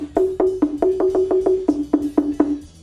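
A teponaztli, an Aztec wooden slit drum, struck about a dozen times in a steady rhythm, each hollow, resonant tone clear and close, with a few alternating pitches.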